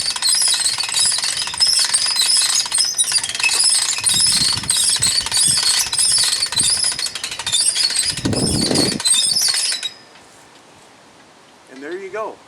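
A portable winch drags a stake out of the ground, its loud, continuous motor whine and rattle running for about ten seconds before cutting off, leaving quiet with a brief tonal squeal at the end.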